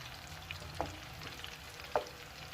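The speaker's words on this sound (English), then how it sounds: "It's frying, and it's gonna catch up here in a minute." Frozen potatoes fry in cooking oil on medium heat, a steady faint sizzle with two brief clicks of a spatula stirring, no voices.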